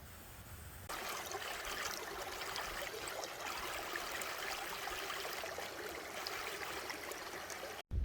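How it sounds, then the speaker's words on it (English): A river flows steadily alongside the Allegheny bank, a broad, continuous rush of water close by that swells louder after the first second and holds evenly to the end. "I'm sitting here along the river"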